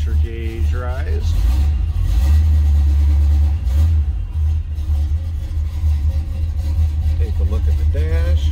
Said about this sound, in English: Start it up, let it warm up a second.